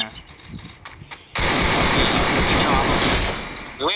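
Rapid gunfire from an AK in the Free Fire video game breaks out suddenly and keeps going as a loud, dense burst of shots. Quieter game noise comes before it.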